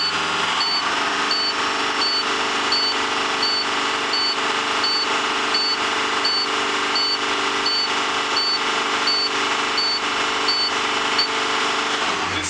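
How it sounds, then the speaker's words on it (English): On a school bus during an air brake test, the low air pressure warning buzzer beeps in a steady, evenly spaced series over an idling engine, with no one talking. "the light for low air pressure warning and the buzzer will come up"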